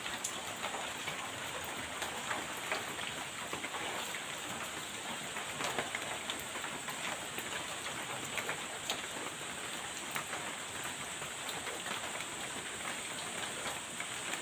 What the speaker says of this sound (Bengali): এই যে বৃষ্টি এটা হচ্ছে বাড়ির উঠানের বৃষ্টির দৃশ্য